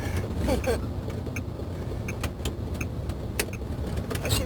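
A truck engine runs while driving on the road, a low continuous rumble inside the cab with small rattles and clicks, as voices talk over it.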